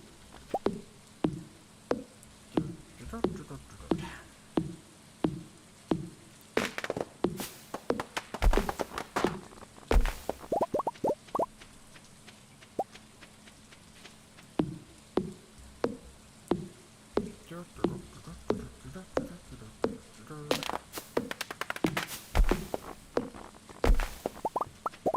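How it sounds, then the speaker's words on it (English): Axe chopping trees in the farming video game Stardew Valley, rhythmic wooden thunks repeating in quick regular runs, broken by a few louder cracks and brief pauses. "Which is going to involve largely just chopping trees down,"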